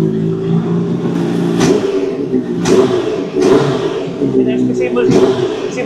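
A big bike with an SC carbon exhaust revs loudly and repeatedly, each throttle blip rising over a steady idle drone, while people talk nearby.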